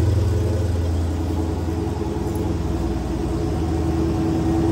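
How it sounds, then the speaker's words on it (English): A 2016 Dodge Challenger Hellcat's 707-horsepower engine idles just after a cold start, a deep, loud, close rumble with a steady lumpy pulse throughout. "Doesn't like a cold start. Listen to that thing."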